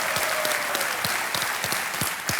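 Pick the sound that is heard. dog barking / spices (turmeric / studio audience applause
studio audience applause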